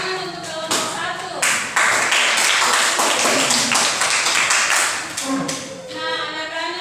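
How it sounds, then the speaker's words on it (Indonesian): Students in a classroom clapping for a group, loud close hand claps that build into a full burst for several seconds, with brief chatter and a voice at the start and end. "Tepuk tangan untuk kelompok 1."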